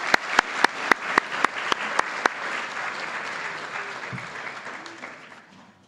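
Applause for Dean's List students at a college opening assembly, where a run of sharp, evenly spaced single claps from one close person rides over broad crowd clapping that gradually fades toward the end.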